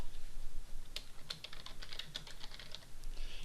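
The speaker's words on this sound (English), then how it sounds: "Now we will put the title Silent Spring in the main search field." Quiet keystrokes on a computer keyboard tap out a short book title, an uneven run of light clicks over a soft room hum.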